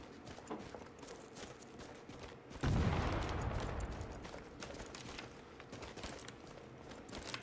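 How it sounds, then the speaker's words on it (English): A single sudden explosion bursts out in a video game, loud and close, then rumbles and fades over several seconds above a steady bed of game ambience. "What's that explosion?"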